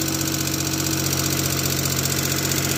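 A revived Metro car engine idles steadily at close range, a continuous even rumble with a faint knocking beat and no talk over it.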